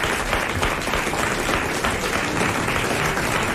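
A French TV studio audience breaks into dense, sustained applause, loud and uniform from start to finish with no talking over it.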